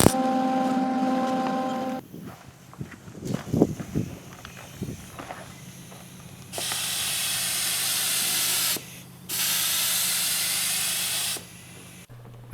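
Spray gun applying Chassis Saver Black matte paint to a VW diesel Spitfire car frame, two long loud hissing bursts separated by a short pause, after quieter clattering and handling noises.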